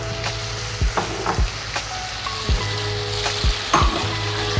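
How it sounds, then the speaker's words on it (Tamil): Onions and tomatoes sautéing in a pan make a loud, close sizzle, with repeated scraping strokes of a spoon stirring at an uneven rhythm. "வெங்காயம் தக்காளி ஆட் பண்ணலாம்ப்பா ஓகே ஸோ இப்போ அப்படியே சேர்த்துடலாம்"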